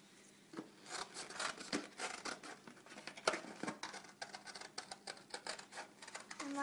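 Scissors snipping out circles of material for a crochet pompon, a close run of quick, irregular cutting and rubbing sounds, fairly quiet with no talking.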